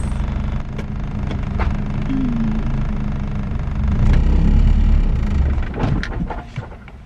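A Honda CRX with a freshly plugged-in MAP sensor drives along, its engine droning steadily and swelling louder midway as it revs, with no one talking.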